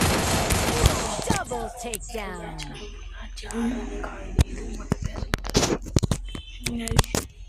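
Free Fire clash squad gunfire: rapid bursts and single shots crack through a busy game mix, dense at the start then sharper scattered shots, with a voice talking over parts of it.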